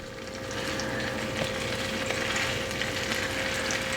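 Walmart brand Spam slices fry in hot oil in a pan, a steady soft sizzle with faint crackles and an occasional light clink, heard close with no talking.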